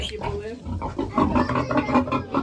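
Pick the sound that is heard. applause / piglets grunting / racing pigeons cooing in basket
piglets grunting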